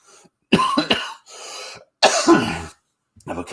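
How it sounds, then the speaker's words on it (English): A person coughs a few times in quick bursts, close up, with brief pauses of silence between the harsh throaty bursts. "Have a cough there"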